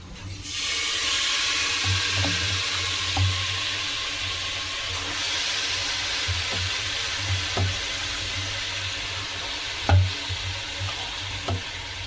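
Spinach for palak dal being stirred in a pan, a continuous sizzle with repeated scraping strokes and occasional clinks of the spoon against metal, close and fairly loud.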